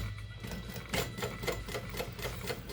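A sewing machine stitching across the top of a zipper, a close, rapid mechanical chatter in short uneven runs.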